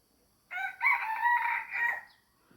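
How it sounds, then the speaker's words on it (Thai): A farm-breed rooster crows once in a backyard garden, a clear, loud, drawn-out call lasting about a second and a half after a short quiet lead-in, with no talking. "เสียงไก่"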